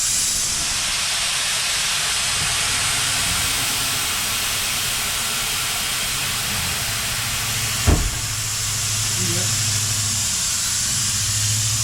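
Steady loud air hiss pours from the drain valve of a Ford F-750 truck's secondary air tank, broken by a single sharp clunk partway through, with engine rumble low underneath.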